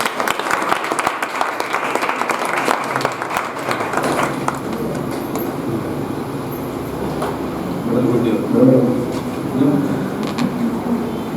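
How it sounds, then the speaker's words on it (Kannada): School event audience applauding, a dense burst of many hands for the first few seconds that fades into murmuring crowd noise and indistinct voices. "ಎಲ್ಲರೂ ಜೋರಾಗಿ ಚಪ್ಪಾಳೆ"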